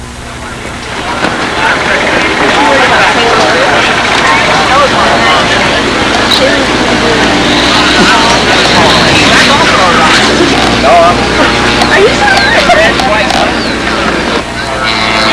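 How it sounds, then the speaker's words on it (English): RC scale aerobatic model aircraft flying at a windy scale nationals meet, a continuous loud engine buzz shifting in pitch as it passes, mixed with heavy wind noise on the microphone and people talking nearby. "Here comes the aerobatic aircraft."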